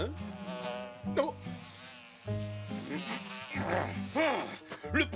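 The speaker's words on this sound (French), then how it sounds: "Le premier qui réussira à attraper cette mouche aura droit à un repas complet offert par les autres." A buzzing fly in an animated Zorro cartoon drones on steadily, swooping up and down in pitch with brief louder passes, without talk.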